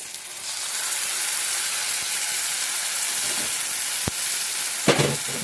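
A paste of ginger, cumin, chilli powder and coriander powder fries in oil with a steady, loud sizzling hiss, broken near the end by a sharp knock and a short stirring scrape, close and without talk.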